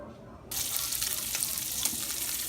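Bacon pieces start frying in a pan over medium heat, bursting into a sudden loud sizzle that continues as a dense, crackling hiss with small pops while the fat renders.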